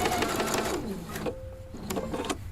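A Husqvarna Viking sewing machine stitches piping cord with a fast, steady mechanical whir. It pauses briefly, then starts up again in a short second burst, close and clear.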